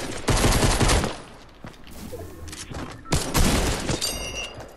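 Infantry rifle gunfire in the video game Fortnite, loud bursts of rapid shots in two volleys separated by a quieter stretch, with further faint shots near the end.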